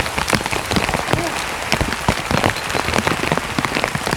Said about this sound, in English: Yeah, crazy rain right now.